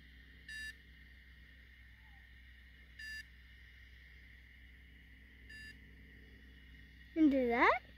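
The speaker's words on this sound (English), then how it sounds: "We hear beepings." A rocket-finding tracking receiver, used to locate landed rocket gliders, gives three short evenly spaced electronic beeps over a low steady hum, followed by a brief voice at the end.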